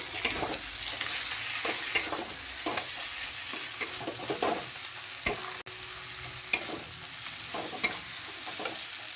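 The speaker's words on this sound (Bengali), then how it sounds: "সমস্ত মশলা খুব ভালো করে আবারও কষিয়ে নেব" Spice masala of turmeric, cumin, coriander and chilli powders frying in oil in a pan, with a soft continuous sizzle and regular scraping stirs of a spoon, close and without talk.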